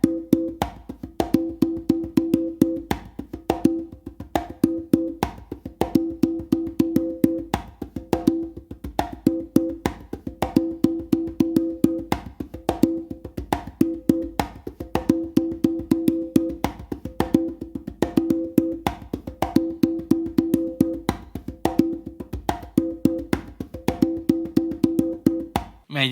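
Congas play a continuous funk 3 in 1 pattern, brisk repeating open tones and slaps in a steady groove for the full stretch, close and alone with no voices.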